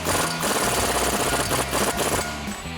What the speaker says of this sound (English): we're going to grab that same 36mm axle socket and tighten that down